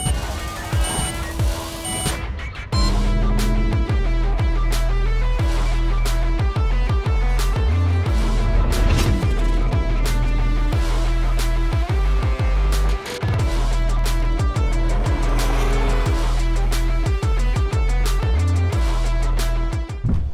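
An Alfa Romeo Stelvio Veloce and a 156 GTA pulling hard from third gear in a rolling race, with loud, rising engine notes that climb through the revs and then drop back, recorded alone with no talk.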